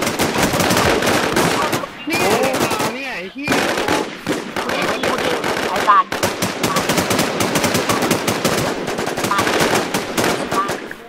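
Rapid bursts of gunfire in the Infestation Thailand survival shooter, loud and close, with dense automatic volleys broken by brief pauses and excited players talking over the shooting.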